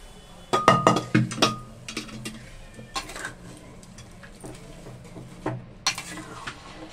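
Boiled chana dal poured over vegetables in a pot, a quick run of clinks and a wet slosh at first, then scattered spoon knocks against the metal, close by with no talk.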